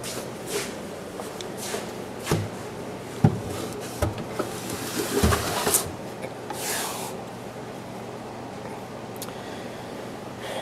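A wooden drawer slid into its cabinet to test the fit, heard as a series of scraping, rubbing slides and light knocks over a quiet room background, busier in the first half.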